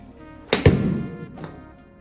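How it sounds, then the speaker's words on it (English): A golf wedge strikes the ball on an 80-yard shot with one sharp thwack, followed by a short ringing decay and a faint second tap a moment later, heard up close with no talking. "So we're gonna look first at the 80-yard shot."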